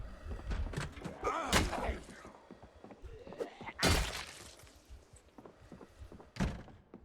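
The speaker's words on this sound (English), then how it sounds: "we are making quite a bit of noise trying to take this fucking door" Heavy repeated thunks of a wooden door being battered and forced in Project Zomboid, irregular loud blows spaced a second or two apart, close up, with someone talking quietly in between.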